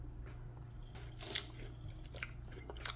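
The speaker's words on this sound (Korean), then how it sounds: "그 육질이 음. 아주 아삭아삭하죠." Someone bites into crunchy watermelon and chews, with several crisp crunches and wet chewing noises over a steady low hum, fairly close and quiet, with no talking.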